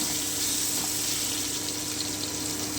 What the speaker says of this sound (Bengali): আমি হালকা ব্রাউন করে ভেজে নিব আলুগুলোকে।